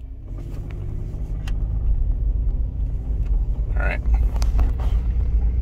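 A Subaru Outback XT with a swapped EJ20X engine pulls at full throttle uphill, a loud, rising engine roar and road rumble from inside the car while someone talks over it.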